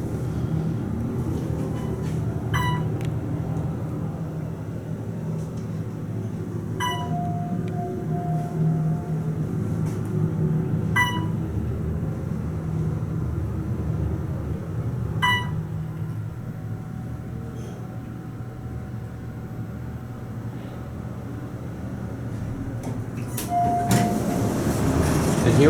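An Otis elevator with MEI motors runs steadily six stories down in a Pittsburgh parking garage, a constant low drone and hum with periodic soft clicks and brief chimes, no talking.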